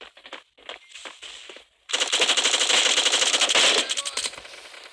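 MP5 submachine gun fire from the video game Bullet Force: a few scattered shots, then a long, loud, rapid automatic burst lasting over two seconds, with no talking.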